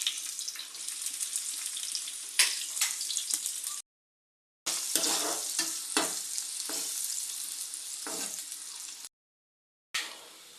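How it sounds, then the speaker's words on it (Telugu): Onion frying in oil with green chillies, mustard seeds and cumin for a beans curry gives a steady close sizzle with sharp stirring scrapes and clatters, broken by two short silent gaps. "పచ్చిమిర్చి కొంచెం ఫ్రై అయిన తర్వాత ఆనియన్ వేసుకోవాలి."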